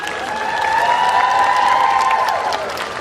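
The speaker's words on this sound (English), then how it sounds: "I would like the graduates to give a round of applause to all of those who supported them" Graduation ceremony audience applauding, a broad wash of clapping that swells and holds before tapering off, with a sustained tone underneath.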